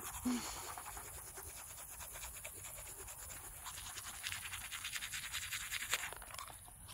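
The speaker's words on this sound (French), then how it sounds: "On va commencer par le brossage de dents." Teeth being brushed with a toothbrush while staying overnight near horses, a faint, steady scratchy scrubbing close by, continuous for several seconds with slight rhythmic pulses and low background noise.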